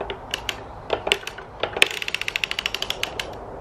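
A hand-cranked circular sock knitting machine is turned forward, producing a series of sharp, evenly spaced mechanical clicks that quicken into a steady ratcheting rhythm as the needles rise, close and clear with no talking.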